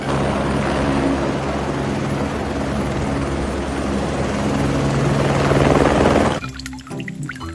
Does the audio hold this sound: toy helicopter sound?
yes